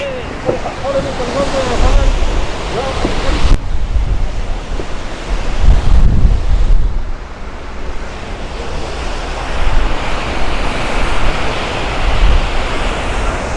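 Waterfall near Muradiye, water falling in a loud, steady rushing roar mixed with wind buffeting the microphone, close and continuous throughout.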